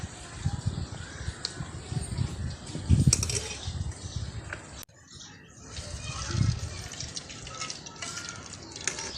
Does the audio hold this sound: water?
yes